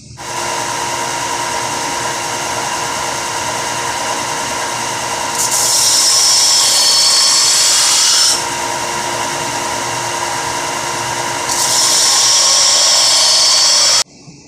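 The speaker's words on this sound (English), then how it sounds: "Okay, so now I just need to give the knife the final sharpen." A power tool sharpens a knife forged from a railroad spike, a continuous loud motor whine that rises to a harsher, brighter grinding in two bursts as the blade meets the abrasive.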